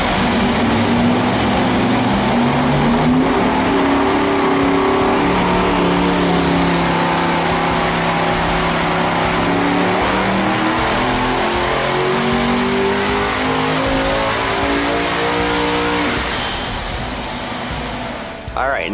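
Devel Sixteen V16 engine running 36 psi of boost on race fuel, revving hard on a dyno with a loud, rising howl that climbs steadily in pitch and fades out near the end.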